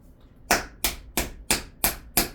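Hands tapping on the body during a lymphatic massage, six crisp, evenly spaced slaps at close range with a steady rhythm and no talk.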